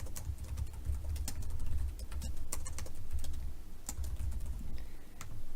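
Keystrokes on a computer keyboard tapping in an irregular run of sharp clicks, close and fairly quiet over a low steady room hum, with no voice heard.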